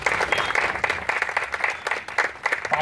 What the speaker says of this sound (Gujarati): આપણે તાળીઓના ગળગાળાથી તેમને વધાવી લઈશું.